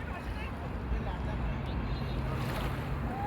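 Sea waves wash onto the sandy Alexandria beach in a continuous, broad surf roar mixed with wind rushing over the microphone, steady and moderately loud throughout.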